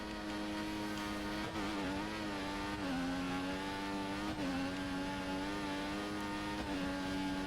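A race car engine screams at steady high revs, loud and continuous, with slight pitch dips as it shifts through the run.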